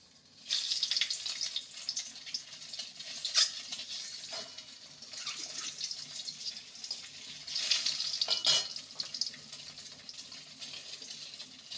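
Eggs frying in mustard oil in a wok, a soft continuous sizzle with faint crackles and occasional brief scrapes, close by with no voices.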